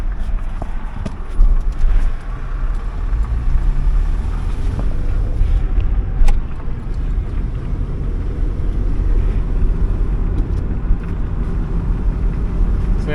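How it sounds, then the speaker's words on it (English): An underpowered off-road vehicle with a manual transmission and a misfiring engine, on its first drive under its own power: a loud, continuous low engine rumble with uneven knocks and wind buffeting the microphone. "First time since I've got it, it's driving under its own power, and it's not a lot of power."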